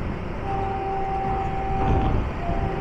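A long train rolls past on tracks beside a motorcycle rider on the road from Mumbai to Indore, a broad, steady rumble with a faint sustained whistle-like tone, swelling slightly toward the end.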